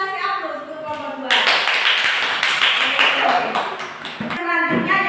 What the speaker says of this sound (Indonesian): Kita kasih aplaus untuk kelompok 2.